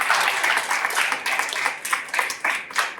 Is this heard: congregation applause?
yes